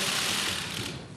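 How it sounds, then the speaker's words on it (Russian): Camera shutters click during an official press photo session at diplomatic talks, a dense rapid chatter of many overlapping clicks forming a continuous mechanical rattle up close. "Во время протокольной съемки щелчки затворов и фотоаппаратов иногда даже заглушали слова выступления."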